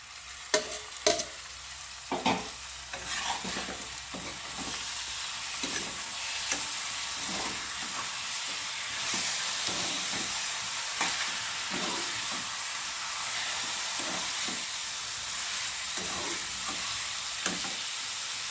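Duck meat sizzles in a hot pan with browned aromatics while a spoon stirs and scrapes it, giving repeated close clatters over a constant frying hiss; no one speaks.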